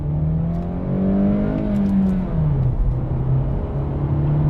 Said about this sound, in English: engine's quite boomy when you get to the red line, or approach the red line